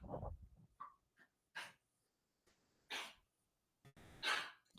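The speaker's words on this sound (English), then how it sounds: "Something's up with that dog." A dog gives a series of short, breathy snorts and sneeze-like bursts, separated by silent gaps, fairly close and sharp.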